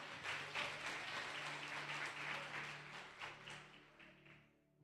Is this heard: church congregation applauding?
yes